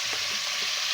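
Chicken pieces frying in a pan until browned, a dense, even hiss of hot oil lasting about a second, close and unbroken, with no voices.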